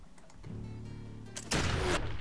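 Gunfire in the video game Expeditions Conquistador: a sharp burst of shots near the start, then a louder, dense volley of blasts in the last second, all close and forceful with no talk.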